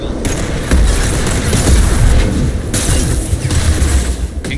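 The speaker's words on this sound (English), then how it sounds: "Concussive shot ready." A concussive shot ability blast in Mass Effect 2 Legendary Edition during combat: a loud, heavy, booming impact amid continuous rumbling explosions and gunfire, close and dense throughout.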